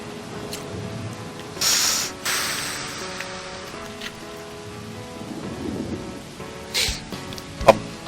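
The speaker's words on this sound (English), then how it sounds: "The wind and rain's getting stronger, just like the forecast said it would." Thunderstorm with wind and rain in the visual novel Hoshi Ori Yume Mirai: steady rain hiss under a musical backdrop, with a couple of loud thunder bursts and a sharp crack near the end.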